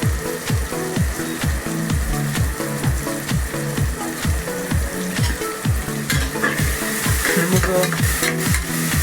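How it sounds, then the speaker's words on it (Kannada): Green chillies sizzle in hot oil in a pan for chicken biryani, stirred in a steady scraping rhythm of repeated strokes, loud and close throughout with no talk. "ಇವಾಗ ಹಸಿಮೆಣಸಿನ್ಕಾಯಿ ಹಾಕ್ತಾಯಿದ್ದೀವಿ."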